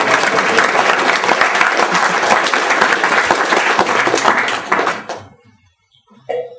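An audience at a Hare Krishna lecture gives a big hand for Maharaj: dense, loud, sustained applause for about five seconds that quickly dies away, followed by a short faint sound.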